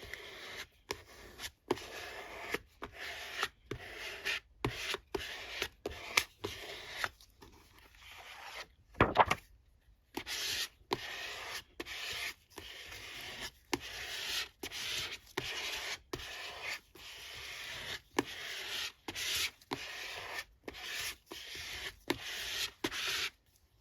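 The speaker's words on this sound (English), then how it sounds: "use my spreader or a bone folder" A bone folder pressing and smoothing paper card for a handmade notebook: soft repeated rubbing strokes in an even rhythm, close and quiet, with brief pauses and no voices.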